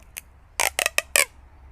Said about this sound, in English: Now I'm going to use the sticky tape.